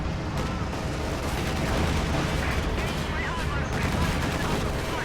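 Dense battlefield gunfire and artillery from a World War II real-time strategy match, with an anti-tank gun firing among steady loud bursts, booms and small-arms fire and a voice talking over the din.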